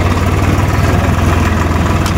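A diesel tractor engine runs at raised revs while straining to tow a trolley stuck with its wheel in a rut, a loud, steady, throbbing drone with no pauses and no voices.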